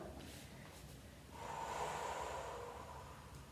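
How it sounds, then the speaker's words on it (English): A single close, audible breath, a rush of air in and out, in an otherwise quiet room. "3 deep breaths here."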